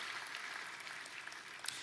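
Faint, distant applause from a church congregation during a sermon, a soft, even patter of clapping with a few sharper claps near the end.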